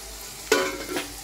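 Sliced onions frying and being stirred in a hot pan, a short sizzling scrape with a quick second stir, close and alone.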